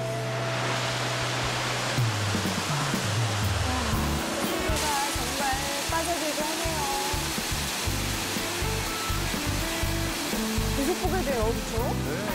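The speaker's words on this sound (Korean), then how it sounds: "해발 1000m에서 흘러내리는 용서폭포라는데요." Yongso Waterfall in Gapyeong spills down from about 1000 m elevation, making a steady, loud broadband rush throughout. Voices and other tonal sounds come and go over the water.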